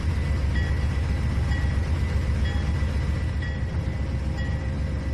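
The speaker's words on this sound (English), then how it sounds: "The train going by." A train in the video game Trainz 2019 rumbles past steadily with a low, continuous roar and faint periodic clacks of wheels on track, no voices.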